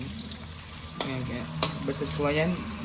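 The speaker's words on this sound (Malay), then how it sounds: "saya inginkan ikan bilis yang rangup, jadi saya akan goreng sedikit lama" Small anchovies fry in hot oil in a pan with a steady crackling sizzle, and a voice briefly murmurs over the hiss.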